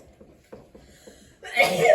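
A single sharp sneeze bursts out at the end, after a moment of faint shuffling and quiet background noise.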